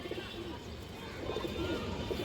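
Pigeons in a Bengali pigeon-keeper's loft coo softly and repeatedly, close by, with a continuous low burbling and no talk over it.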